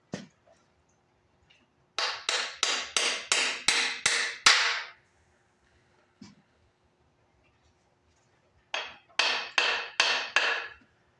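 A hammer taps on a seized hydraulic pump from a Case 188 machine, striking in quick bursts of about seven sharp metallic hits, then pausing before another cluster of rapid blows, close and clear with no talking.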